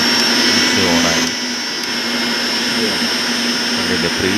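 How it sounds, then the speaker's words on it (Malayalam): A repaired, freshly rewound mixer grinder runs continuously with a steady, loud motor whine and a slight dip in pitch partway through, close up with no talk over it. "മിക്സി കറങ്ങുന്നുണ്ട്, മിക്സി ഓണായി"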